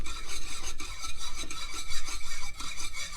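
A rapid, steady metallic rasping repeats in quick strokes as a cutter grinds an engine valve on an Allis Chalmers C engine, close and continuous without any voices.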